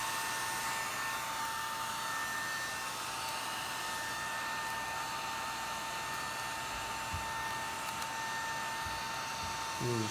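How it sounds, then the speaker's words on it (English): A hair dryer set on low runs steadily for the whole stretch, heating vinyl wrap being laid over a car's chrome trim; a constant close whirring airflow with a faint electric whine, briefly joined by a soft bump near the end. "This hair dryer on low really does the job."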